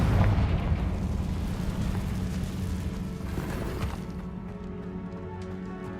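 A Confringo blasting spell in Hogwarts Legacy bursts with a loud, rumbling explosion that booms and decays over several seconds inside a cavernous stone room, leaving a low resonant tail.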